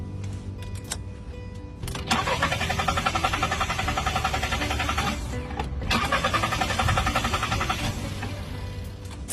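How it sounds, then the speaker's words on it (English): A car engine is cranked repeatedly, with two long bursts of rapid rhythmic starter whirring separated by a short pause, close and fairly loud, with no speech. "I will start this car now."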